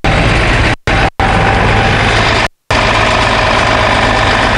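A 2013 Temsa TS30 executive highway coach idles on its Cummins engine with Allison automatic transmission, a loud, steady, close diesel rumble with a couple of brief dropouts and no talking.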